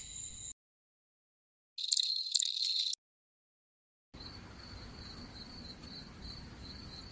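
Cricket sound effect previews in short fragments: a brief high trill, silence, a louder burst of chirping, another pause, then a steady continuous cricket chorus over a faint hiss.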